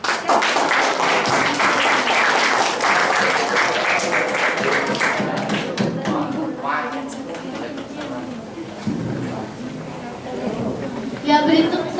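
Students at a high school Indonesian-language practical exam applaud a performer, a burst of clapping for about five seconds that gives way to talking and background noise.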